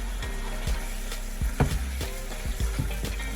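Soybean spaghetti goes into a hot pan with garlic butter shrimp, which keeps up a steady close sizzle broken by a few sharp clinks and stirring knocks, with no talking.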